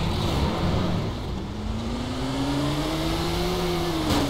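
A UAZ car engine in the video game DayZ, steady droning with pitch slowly rising as it revs, heard close and continuous.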